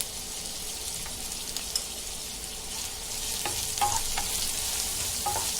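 Onions with salt frying in a pan of oil, a close, bright continuous sizzle with occasional stirring scrapes, growing slightly louder partway through.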